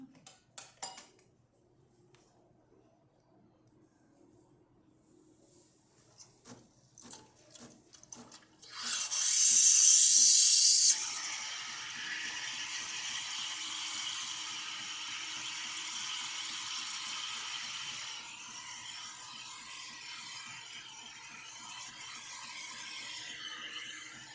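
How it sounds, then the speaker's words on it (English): After a few quiet clicks, a Breville Bambino Plus espresso machine's steam wand bursts into a loud hiss, then settles into a steady rushing, gurgling roar as it steams water. "As you can see, it's working fine, steaming the water."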